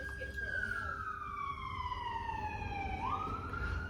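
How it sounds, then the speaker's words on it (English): A wailing siren sweeps downward in pitch as it passes, then rises again, heard over low road rumble with no talking. "Just wait for that ambulance to go past."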